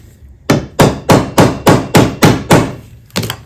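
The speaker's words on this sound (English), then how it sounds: "hammering just to move it" A hammer strikes a metal part of a vintage Delta Rockwell 1460 wood lathe during repair work: eight loud, evenly spaced blows close by, each ringing briefly, then a quick double hit after a short pause.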